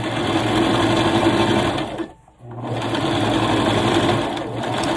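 Sewing machine stitching a garment with a pressed crease, a loud close steady motor hum with a brief stop in the middle before the stitching resumes.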